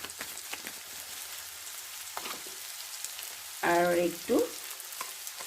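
Chopped onion and green chili sizzle steadily in a pan for chicken liver fry, with occasional light stirring scrapes, and a person briefly speaks near the end.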